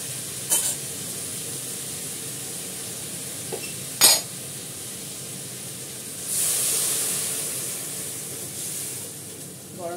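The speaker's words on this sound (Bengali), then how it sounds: "গরম জল দিয়ে দিলাম" Hot water is poured into a cooking pan of frying food, raising a hissing, sizzling wash of steam over a steady background sizzle, with a few sharp clinks of utensils.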